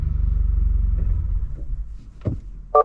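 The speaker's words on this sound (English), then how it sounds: "So the car stalled because those donuts met together and the engine donut became frozen and stopped moving" A manual-transmission car engine idles with a low, steady rumble, then stalls, sputtering and dying out, followed by a couple of sharp mechanical clunks.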